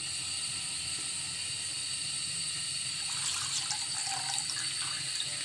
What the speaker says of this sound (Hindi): अब हमने इस पॉइंट पे जो है ना 2 कप दूध इसमें डालना है।